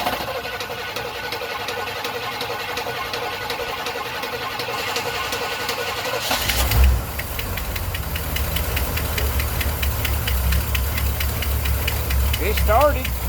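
A 1985 Suburban engine fitted with a Holley carburetor in place of its Quadrajet cranks for several seconds, then fires and settles into a loud, steady, slightly knocking idle with an exhaust leak, close up.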